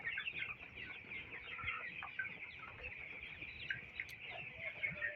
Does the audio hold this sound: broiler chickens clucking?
yes